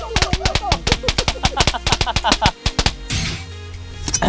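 An electric firecracker gadget for Diwali crackles in a rapid, loud string of sharp snapping bursts for about three seconds, then a hissing rush follows.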